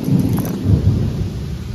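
Deep, loud thunder of an approaching Kalbaishakhi storm rumbles close by in a continuous roll, with a faint hiss of wind or rain behind it.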